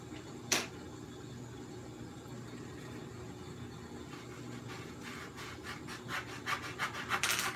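Hollowing a wood block for a Tucker cowl: a soft, steady rubbing and scraping of wood close by, with one sharp knock early and rhythmic strokes growing louder toward the end, no talking.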